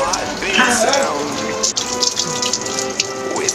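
Hands washed under a running tap produce a continuous splashing water stream close by, while voices talk over it.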